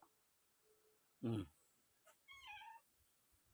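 A cat lets out two short meows close by in an otherwise quiet room.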